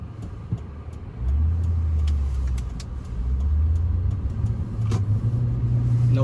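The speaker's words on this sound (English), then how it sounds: "Car coming here." A car passes along a dry street in winter, heard from inside a vehicle on Nitto Exo Grappler AWT tires; a steady low rumble swells as it goes by, blended with the cabin's own engine drone.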